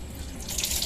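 Water is poured into a cooking pot of paksiw na tilapia with long green chilies, a short steady splashing stream that grows slightly louder toward the end, with no talking.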